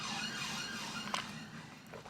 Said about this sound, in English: I hate how many sirens are going past.